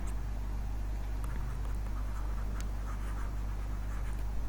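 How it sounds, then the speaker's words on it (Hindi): A pen scratches across paper in soft, continuous strokes over a steady low background hum. "मैं यहां पे लिख देता हूं"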